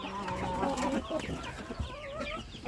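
Cochin chickens cluck and chatter busily on a farm, with several birds close by calling over one another in a dense, continuous stream of short clucks.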